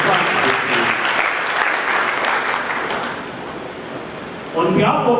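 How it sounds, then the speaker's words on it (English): An audience at a public dialogue on the Expropriation Bill breaks into loud, sustained applause that gradually thins before a voice starts speaking at the end. "I think you deserve a big round of applause for that."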